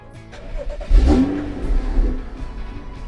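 A 300-horsepower Cupra car engine cranks and catches, giving one sharp rev that swells and then settles into a lower running note, close and loud, with no talk.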